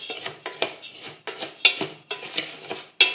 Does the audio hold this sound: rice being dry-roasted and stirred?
yes